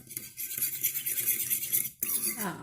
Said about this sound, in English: So once you add that, you want to kind of keep stirring